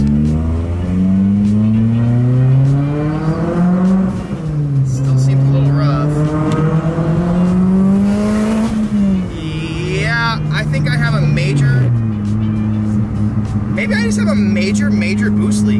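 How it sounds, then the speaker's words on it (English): A turbocharged Mitsubishi Evo X engine with a major boost leak revs hard under heavy acceleration, pitch climbing steadily, dipping at a gear change, then rising again, loud and close. "Now that the car's warm, I'm gonna do a little bit of a pull."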